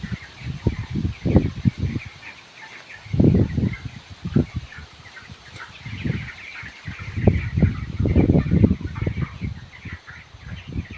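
Chickens, about 20 days old, cluck and squawk inside a curtained poultry farm shed, in dense overlapping bursts that swell and fade over a steady low background hum with no talking.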